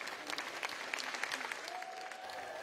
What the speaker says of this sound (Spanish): En la sede del Partido Conservador lo reciben con abrazos y aplausos.